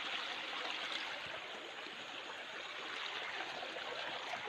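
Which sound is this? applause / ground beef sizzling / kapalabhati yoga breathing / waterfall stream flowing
waterfall stream flowing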